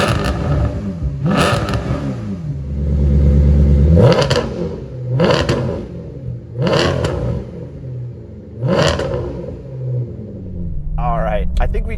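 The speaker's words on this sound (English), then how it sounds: "I think we could agree the GranSport sounds pretty good." A Maserati GranSport with an aftermarket exhaust system revs repeatedly, a series of about five sharp throttle blips rising and falling over a rumbling idle, close and loud.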